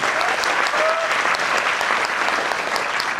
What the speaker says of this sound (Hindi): एक बार जोरदार तालियां चाहूंगा मिस्टर गौरवपुरी जी के लिए।